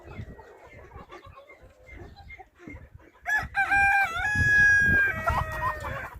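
Chickens clucking in agitated bursts, followed by a loud, close rooster crow that holds for a couple of seconds, with a few fainter bird calls around it.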